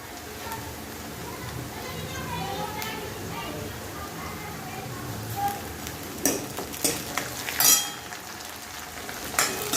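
Onion frying in a pan, a steady moderate sizzle with stirring scrapes and a few louder clatters near the end, while a voice talks over it.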